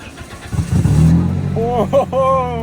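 A Ferrari engine with a manual gearbox rumbles and revs up with a rising roar, while people talk excitedly over it.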